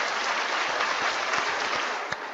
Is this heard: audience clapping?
yes